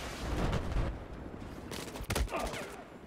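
Gunfire in Battlefield 4 on the Zavod map, a couple of close bursts of shots and rattling fire in quick succession, loud and alone for a few seconds.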